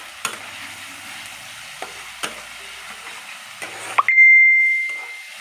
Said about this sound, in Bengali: যতক্ষণ না তেল ছাড়বে ততক্ষণ একটু কষতে থাকবে।